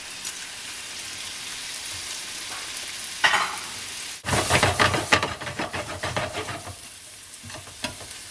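Pears and peas cooking in a pan, first a soft steady sizzle, then a louder burst of crackling and stirring as the mixture is moved around before it settles back to a gentle simmer.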